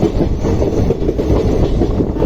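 The Wodeyar Superfast Express train rumbles loudly and steadily along the rails near Srirangapatna, close by, with a continuous heavy roar and faint clattering.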